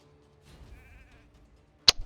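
Sheep bleats in the mobile game Raid: Shadow Legends, a short wavering cry at moderate level followed by a sharp bright effect hit near the end.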